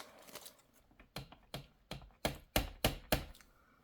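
Sharp paper-cutting snips for a layered junk journal page, a quick series of about ten crisp cuts that grow louder toward the end, close and alone with no talk.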